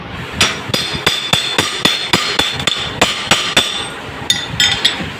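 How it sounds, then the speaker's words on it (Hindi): Repeated sharp metallic hammer blows on a 19 mm socket seating the fork tube of a 125cc motorcycle front shock, about a dozen close, evenly spaced strikes with ringing clinks, no talking. "रख के इसके ऊपर जब चोट लगाएंगे, चोट मारेंगे तो इसको ये डंडा जो है ये नीचे बैठ जाएगा।"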